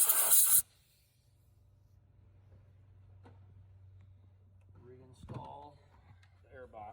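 Compressed air blowing fluid off engine parts during a cooler bypass valve install on a Duramax L5P truck, heard as one loud, close hiss that cuts off abruptly, followed by a low hum and someone talking.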